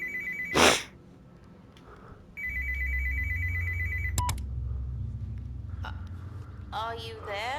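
A telephone rings in a short repeated burst amid a domestic scene, preceded by a loud sharp vocal outburst and followed by a low rumbling bed with scattered clicks and brief voices.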